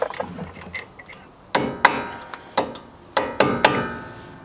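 Uncrimping the staked axle nut on a Ford Ranger CV shaft: a series of about six sharp metallic strikes, spaced unevenly and ringing briefly, close and clear over faint workshop background.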